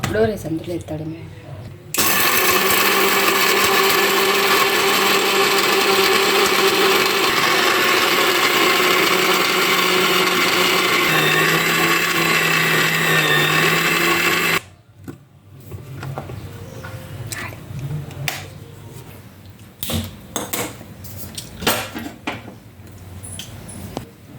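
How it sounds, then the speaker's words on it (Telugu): A mixer grinder whirs loudly and steadily for about twelve seconds, then cuts off abruptly, followed by quieter talking and some clattering. "మిక్సీకి వేసి ఆడిల్లా"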